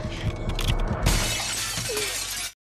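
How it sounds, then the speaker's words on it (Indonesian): A mirror shatters in a school bathroom in the film Carrie (2013): a sudden loud crash of breaking glass, followed by a couple of seconds of tinkling, scattering shards that cut off abruptly. "Lalu ia pergi ke toilet dan menatap kaca cermin hingga hancur"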